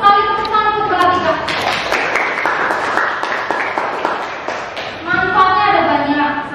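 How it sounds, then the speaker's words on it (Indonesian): A classroom full of students breaks into applause for a classmate, a dense burst of clapping lasting a few seconds, with a teacher's voice speaking before and after it. "tepuk tangan untuk Mbak Atika"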